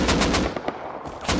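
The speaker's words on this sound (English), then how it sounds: "I was just shooting against him." Rapid automatic gunfire in the survival video game Rust, loud bursts of shots at the start, a few scattered shots in the middle and another burst at the end.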